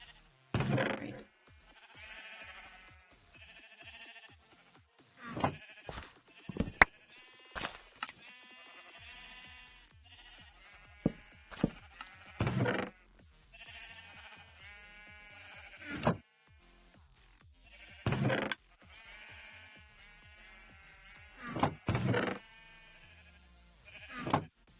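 Sheep bleat repeatedly over nearly twenty-five seconds, loud wavering calls overlapping from several animals nearby, with a steady low background murmur between the louder cries.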